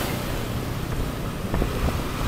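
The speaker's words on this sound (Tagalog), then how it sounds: "Lakas ng alon mga idol." Strong waves splash and surge around a small boat in a steady broadband wash, with wind noise on the microphone and a few brief sharper slaps near the end.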